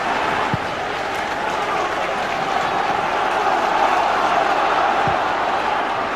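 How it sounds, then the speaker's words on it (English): Football crowd at Vicarage Road cheering and applauding for Watford in a 1999 match against Wimbledon, a steady broad roar of clapping and voices filling the whole stretch, with a couple of brief low thumps. "Plenty of encouragement around Vicarage Road for Watford now."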